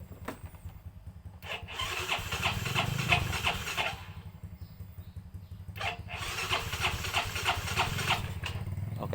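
A Yamaha Mio J scooter that has been hard to start cranks on its starter dynamo twice, each burst catching into a steady mid-pitched idle putter, close and fairly loud with a short gap between attempts.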